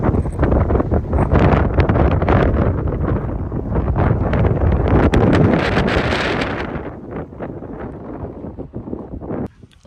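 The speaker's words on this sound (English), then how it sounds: "So it's a bit windy" Strong wind buffeting the microphone at Chicken Point on the Broken Arrow Trail near Sedona, a loud roaring gust that swells and then eases away toward the end, with no voices.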